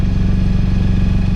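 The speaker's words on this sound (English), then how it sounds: "So anyway, I'm running the engine." A sailboat's motor, running with almost no compression, chugs in a steady loud low rumble with a fast regular pulse, close up and without voices.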